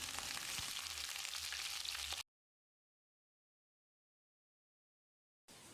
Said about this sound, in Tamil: இதையும் போட்டு மறுபடியும் 1 நிமிஷம் இந்த 3ஐயும் நல்லா ஃப்ரை பண்ணிக்கலாம்.